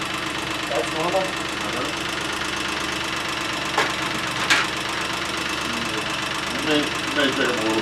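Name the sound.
Geo car engine running with lifters ticking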